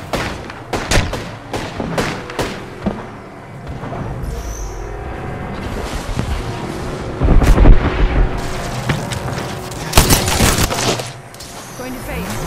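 Gunfire in a ranked battle royale video game match: bursts of sharp shots in quick clusters, some near and loud, others distant, with heavy booming impacts mixed in.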